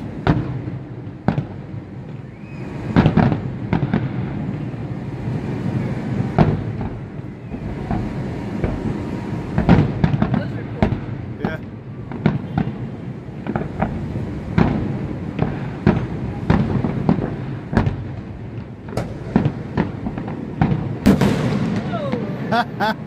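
New Year's fireworks set off around a neighborhood in Hawaii: a dense, continuous crackle of bangs and pops near and far, with occasional louder reports, while people talk nearby.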